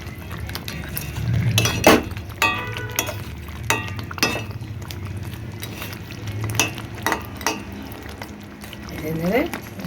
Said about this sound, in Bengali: চিংড়ি মাছগুলো ছেড়ে ভালো করে নেড়ে নেব।